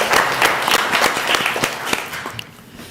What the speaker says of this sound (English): Certainly, let's give them a hand. You can clap.